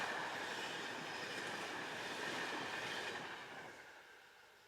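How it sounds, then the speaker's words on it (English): An E402 electric locomotive hauls a Milano to Taranto intercity train past, a steady broad rushing rumble of wheels on rail with a faint high squeal, fading as it moves away. "E402 electric locomotives are the main type used on intercity loco hauled services."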